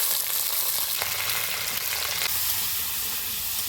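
Small fish frying in hot oil in a wok crackle and sizzle in a loud, continuous hiss with a few sharper pops, heard alone without talk.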